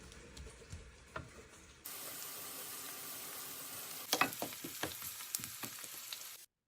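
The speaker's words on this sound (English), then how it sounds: "we heat the pan, add some oil to it, and when the oil gets hot, we add chopped onions to it" Chopped onions dropped into hot oil in a pan, a steady close sizzle that jumps louder partway through, with scattered stirring clicks and pops and no talking.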